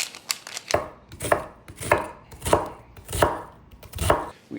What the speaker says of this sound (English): we need to dice up an onion